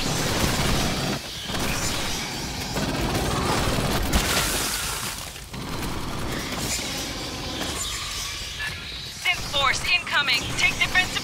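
Gunfire in the video game Aliens Fireteam Elite, a dense, continuous roar of weapons fire and impacts with bursts of rapid shots near the end, under game voices talking.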